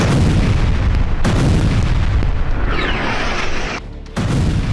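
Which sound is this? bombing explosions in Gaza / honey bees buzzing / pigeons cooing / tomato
bombing explosions in Gaza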